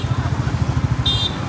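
A motorcycle rides along the roads of Isanpur, its engine putting out a fast, even low pulse close by, with a brief high beep cutting in partway through.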